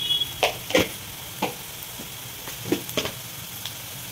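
Onions browning in a pan with turmeric added for masoor dal, giving a soft steady sizzle under scattered clinks and stirring scrapes, close by and fairly quiet.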